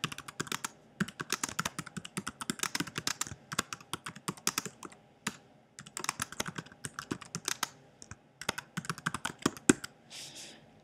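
Keys clatter on a computer keyboard as a chart title is typed, rapid uneven bursts of close, crisp clicks with brief pauses between runs and no voice.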